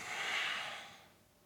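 Heavy, forceful exhale during a joint-mobility exercise workout, one long airy breath out close to the microphone that fades away near the end.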